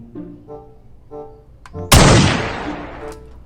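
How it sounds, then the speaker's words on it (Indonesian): A sniper gun in a shooting video game fires a single loud, sharp blast with a long decaying tail, preceded by quieter tonal game sounds. "sniper gun."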